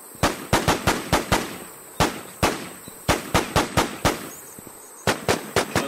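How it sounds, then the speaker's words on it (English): Gunfire in a zombie-shooting video game, with a rapid series of sharp, loud shots fired in quick bursts and short pauses between them, with no talking. "Shots fired, shot down the zombie."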